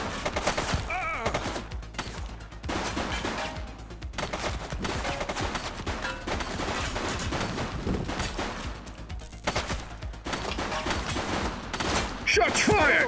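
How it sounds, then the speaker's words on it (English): Rapid gunfire in a police shootout in the video game The Precinct, volleys of shots bursting in clusters with brief gaps, fairly faint and continuous over several seconds. "Shots fired!"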